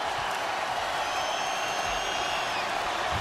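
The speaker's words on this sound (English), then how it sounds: "Here comes the crowd." Stadium crowd cheers for the Kansas Jayhawks at Allen Fieldhouse in a dense, steady roar that holds constant for the whole stretch, with no clear talking over it.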